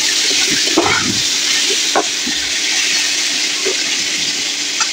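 Potatoes seasoned with salt and turmeric fry with a loud, constant hiss in a pan using little oil, broken by irregular scraping and knocking as they are stirred.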